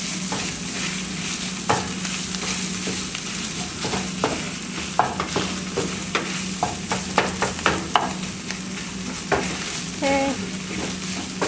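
A spoon scrapes and knocks around a pan as sambosa filling with tomato paste is stirred, soft sizzling underneath and irregular clinks, close by, with a brief spoken word near the end.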